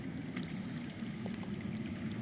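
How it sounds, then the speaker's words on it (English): Faint continuous trickle of water flowing underground in the Game of Thrones Telltale video game, a soft steady low wash with small splashy flickers, alone without talk. "I hear water. From underground."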